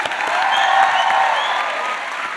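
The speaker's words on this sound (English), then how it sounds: "Let's give them one more round of applause." Steady applause from an audience at an autism talent show, many hands clapping together in a sustained wash that fades slightly toward the end, with no voices over it.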